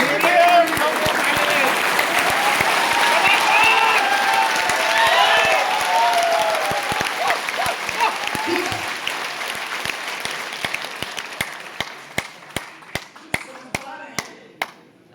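Hall full of audience applause during a business motivational talk, a dense wash of clapping that thins out toward the end into a few scattered, sharp individual claps.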